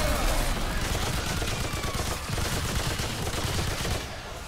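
Rapid, dense gunfire from the video game Remnant 2 fills the scene with continuous overlapping shots and bursts, loud and close throughout, easing slightly near the end.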